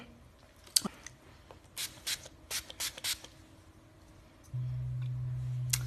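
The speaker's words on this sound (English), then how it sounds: "this is the Wet n Wild Photo Focus setting spray" Five quick hissing spritzes of Wet n Wild Photo Focus makeup setting spray burst out in a short rhythmic series, followed by a steady low hum.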